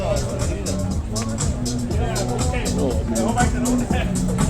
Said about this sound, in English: Small crowd in there.